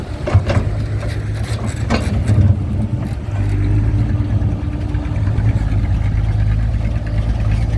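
A Kobelco SK200-10 excavator dredging a reservoir in hard soil, its diesel engine droning steadily at close range with a deep, even rumble that swells slightly as it works, with a few knocks early on.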